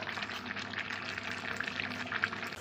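Chicken curry with the skin on, cooking with yogurt and salt, sizzles and fries steadily in a pan while being stirred, a soft continuous crackle with faint scraping.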